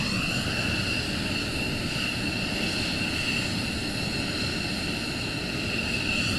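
Jet engines whine and rumble steadily as a military aircraft taxis at RAF Lakenheath on a morning launch, a loud continuous drone with no break and no talking.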